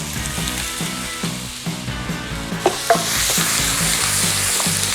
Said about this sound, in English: we're going to add our diced bits of pork shoulder